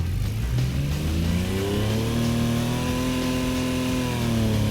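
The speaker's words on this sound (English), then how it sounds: "Let's see how it sounds. Full throttle, and away we go." An engine revs hard under full throttle, its pitch climbing steadily as it accelerates, loud and close.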